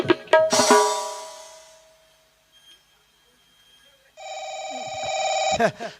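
A bright electronic phone ring chimes, fades, and after a pause an old-style telephone bell rings again steadily for over a second, with voices cutting in briefly.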